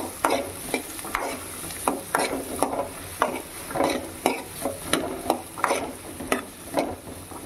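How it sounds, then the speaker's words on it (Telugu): Pumpkin pieces for a sweet pumpkin curry fry in a pan, with a steady sizzle broken by regular, close scraping stirs of a spoon, each stir a sharp rasp in an even rhythm. "ఇప్పుడు గుమ్మడికాయ ముక్కలు వేసుకొని బాగా ఫ్రై చేసుకోవాలన్నమాట."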